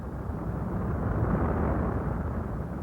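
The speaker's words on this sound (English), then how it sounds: "This explosion is a supernova." Supernova explosion rendered as a deep, sustained rumbling roar, loud and steady for several seconds with no voices.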